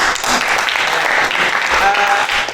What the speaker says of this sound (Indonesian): kita beri aplaus kepada Rama